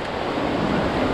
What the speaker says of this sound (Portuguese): Hoje o mar está muito agitado.